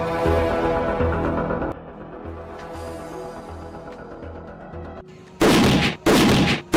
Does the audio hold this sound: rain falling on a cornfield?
no